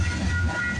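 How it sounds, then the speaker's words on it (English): A CPKC freight train rolls past at Bartlett Avenue in Toronto, a steady low rumble with a continuous hum, loud and near, with no voices. "Symbol on this train is CPKC 230."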